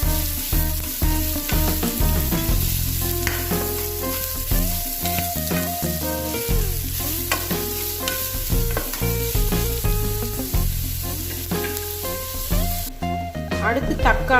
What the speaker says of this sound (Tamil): நான் இன்னைக்கு 2 பெரிய வெங்காயம் எடுத்திருக்கேன். நல்லா பொன்னிறம் வர வரைக்கும் வதக்கிக்கோங்க.